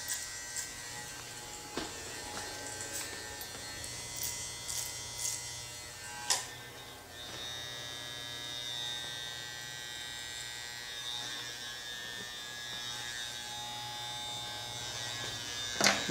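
Electric hair clippers buzzing steadily and quietly through a haircut, close up, with a few faint clicks and taps over a continuous low hum.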